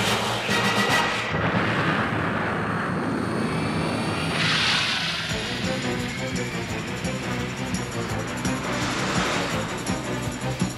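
Space Battleship Yamato launches in a film sound effect, a heavy, continuous roaring rumble with swelling whooshes that surges loudly and holds for several seconds.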